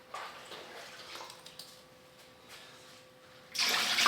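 Water pours into a container while six quarts are measured out for making ballistic gel, a faint trickle and splash at first, then a loud gushing stream toward the end.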